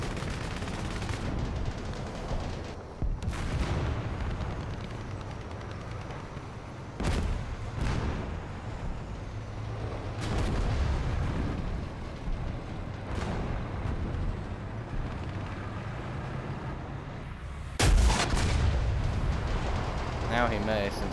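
Tank cannon fire in the War Thunder video game, several sharp booming shots spread across a continuous loud rumble of engine and battle noise, with a heavier blast near the end.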